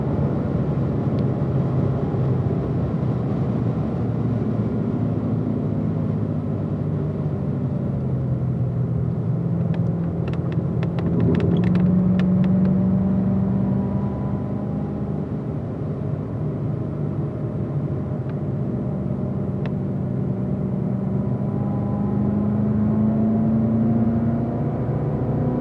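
Race cars cruise a cool-down lap in fourth gear at reduced pace, a continuous low engine drone with gently wavering pitch and a few passing surges, steady and unbroken, with no talking.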